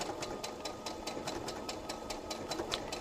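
A domestic sewing machine stitching quilt pieces gives a steady rhythmic mechanical chatter, each stitch a soft regular tick over a low motor hum, close and fairly quiet throughout.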